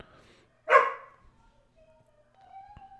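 A single sharp dog bark rings out close by, followed by near silence and a faint, thin background tone.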